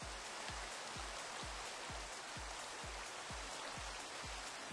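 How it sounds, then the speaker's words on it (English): Steady Minecraft rain hisses evenly across the whole stretch, a soft constant patter with low periodic thumps repeating about twice a second beneath it. "maybe I can make the rain go away."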